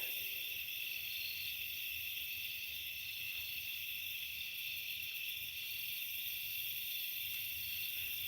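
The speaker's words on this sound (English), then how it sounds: "I just hear the crickets." Crickets chirp at night on a farm in a dense, continuous high-pitched drone. The chorus stays steady and even throughout, with no other sounds.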